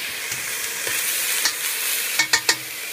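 Chickpeas tipped into a hot pan at medium-high heat, a continuous bright sizzle with a few sharper pops near the end, close and steady with no voices.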